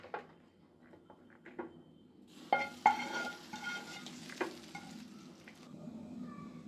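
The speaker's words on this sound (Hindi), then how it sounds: "अब इसे इस तरीके से अच्छे से हम चला लेंगे।" A spoon stirs through thick yogurt raita with makhana in a bowl, with soft scraping and clinks against the sides, repeated steadily at close range.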